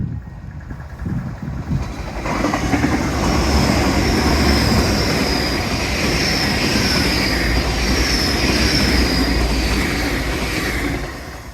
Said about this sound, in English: while I wait for the steam train